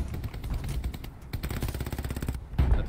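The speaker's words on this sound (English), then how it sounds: "I think he's getting shot in the back." Rapid automatic gunfire in the World War II shooter Hell Let Loose, sustained bursts of close machine-gun fire with brief pauses, a heavier thump near the end.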